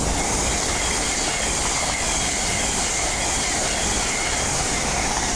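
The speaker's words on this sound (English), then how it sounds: "A1213 with an LNER service to Edinburgh Waverley." An LNER express train bound for Edinburgh Waverley roars through Doncaster station on the East Coast Main Line, a loud, continuous rushing wash of wheel and air noise with a steady hiss, close by and sustained throughout.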